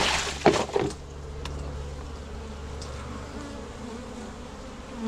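Honeybees buzzing steadily during an inspection of an Apimaye hive made from a three-month split, with a couple of brief louder clunks early on over a continuous close drone.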